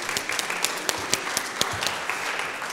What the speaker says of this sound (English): Please, big round of applause for Caris.